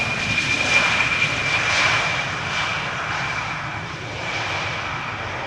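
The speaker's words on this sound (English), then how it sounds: "A319 arriving from London Luton, 38 minutes underway, 13 years old, first flight March 2011." An EasyJet Airbus A319 arriving from London Luton at Schiphol Airport roars loudly and steadily overhead, a broad engine rumble with a thin high whine that swells and eases slightly as it passes.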